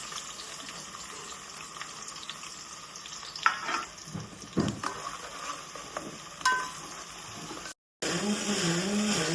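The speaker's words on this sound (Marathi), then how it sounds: "आणि मी कांदा टाकते. तेल मस्त आपला टाकलाय." Chopped onion sizzles in hot oil in a pan as Agri-style vajdi curry is started, with steady frying hiss, occasional stirring clatter, and a brief dropout near the end.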